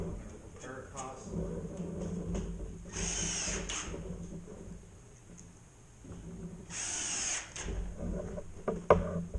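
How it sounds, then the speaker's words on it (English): Power drill driving screws into a wooden ceiling truss during a drywall ceiling repair after a plumbing leak, two short loud whirring bursts between quieter handling noise and talk. "Plenty of screws in the truss, tighten it all up."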